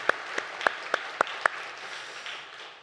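A church congregation gives a brief round of applause, with six distinct sharp claps spaced about a third of a second apart, then a softer lingering murmur; no speech.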